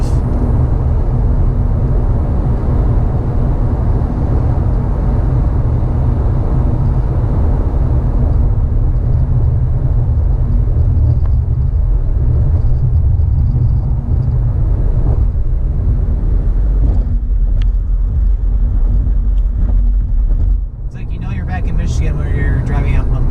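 A car cruises along a bumpy stretch of the I-94 eastbound highway in Michigan, with a loud, steady low rumble of road and engine noise inside the cabin throughout.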